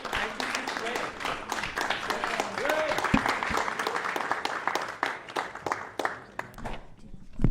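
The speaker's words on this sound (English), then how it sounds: "give yourselves a round of applause for being such a fabulous audience" Audience applause fills a jazz concert venue at the close of an evening event, a steady wash of many hands clapping with a few sharper claps standing out and some voices mixed in before it thins toward the end.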